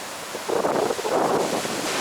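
Surf pounding at Kelingking Beach on Nusa Penida, heavy rough waves making a steady broadband wash that swells louder after the first half second and holds, with wind buffeting the microphone.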